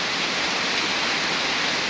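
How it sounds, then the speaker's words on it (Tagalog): Heavy rain pours steadily at night somewhere on the road to Roxas, Palawan, a dense, continuous broadband hiss with no breaks and no voices over it. "Super lakas ng ulan."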